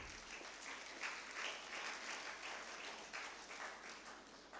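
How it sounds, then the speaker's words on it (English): A conference audience applauds steadily, a dense patter of many hands that swells slightly and holds at a moderate, somewhat distant level. "the volunteers and the student conveners definitely deserve a big round of applause"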